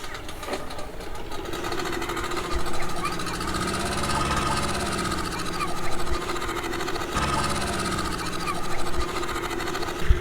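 Speedboat engines drone at a river boat landing on the Brahmanbaria to Nabinagar waterway, a steady mid-pitched motor hum with slight swells and a faint rattling texture, carrying on without talk.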